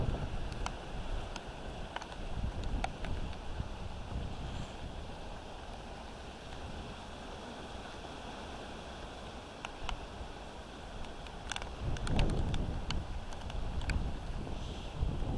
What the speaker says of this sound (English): Comes a nice little gust right here.